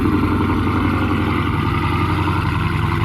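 A tuned Dodge Challenger Hellcat Redeye on a dyno runs on a conservative tune, its engine a loud, steady, throbbing rumble held close and continuous, with no talk over it.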